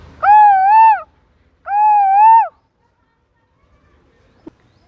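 A voice imitates an Asian koel call: two long, clear, tonal whistling notes with a pause between, then quiet.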